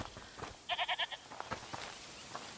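Goat bleating in the game A Plague Tale: Requiem: a short run of four quick, wavering bleats from inside a house, fairly loud against a quiet background, followed by a few fainter scattered sounds.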